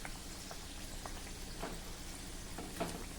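Shegaon kachoris fry in hot oil over medium-low heat, giving a soft, steady sizzle with faint crackles and an occasional small pop or stir.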